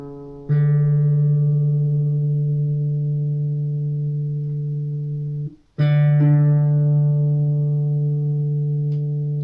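A guitar string sustains a long droning note, cut off once and plucked again, as it is tuned toward pitch with a tuner, close and clear with no talking.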